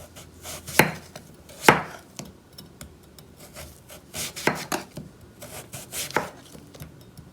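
A knife slices through zucchini on a cutting board, cut like apple slices for a mock apple pie, giving irregular crisp chops and scraping strokes at close range with no talking.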